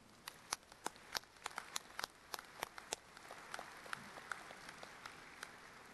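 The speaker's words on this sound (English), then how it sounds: "Graduates, please join me in giving them a warm round of applause." A graduation ceremony audience at Johns Hopkins gives a round of applause. It begins as sparse, sharp individual claps and settles into a softer, more scattered patter of clapping.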